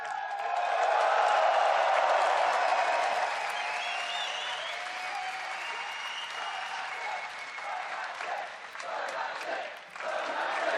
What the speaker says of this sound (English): The cheering will go on and on.